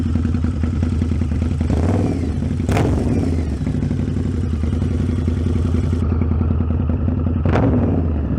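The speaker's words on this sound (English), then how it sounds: "this Vance & Hines gives it a nice low rumble" A Yamaha V-Rod motorcycle with a Vance & Hines exhaust idles and revs nearby with a steady, deep rumble, broken by a couple of sharp rev blips and a clattering knock.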